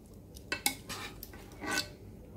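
Metal tongs clinking against a bowl while poke bowl ingredients are set in, a few sharp close taps and a brief scrape, no voices.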